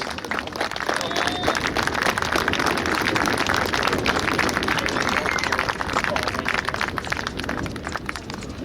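Sustained crowd applause from an airshow audience for the Flying Bulls aerobatic display at Sywell, steady dense clapping held at an even level for the whole stretch, with some crowd babble mixed in.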